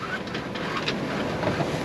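A sailboat motors under engine power away from islands off the west coast of Ibiza, a steady broadband drone blended with wind buffeting the microphone and water wash, continuous and fairly close throughout.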